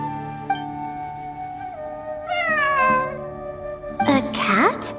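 In the video game Genshin Impact, a cat meows several times in drawn-out, rising and falling calls over ambient in-game music, with a louder pair of meows near the end.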